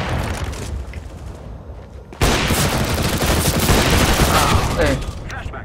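Rapid AK rifle fire in a video game, a dense continuous burst of loud gunshots that erupts suddenly after quieter game noise and keeps going to the end.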